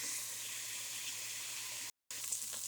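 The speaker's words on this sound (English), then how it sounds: "And I'm going to keep sauteing this until they're just halfway tender." Vegetables for a chicken, veggie, ditalini and dumpling soup sauté in a pot with a soft, steady sizzle, quiet and even, cut by a brief silent gap before the frying hiss resumes.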